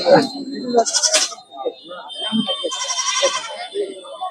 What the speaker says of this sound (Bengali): এই যে ছোট্ট ছাগলের দুইটা বাচ্চা আছে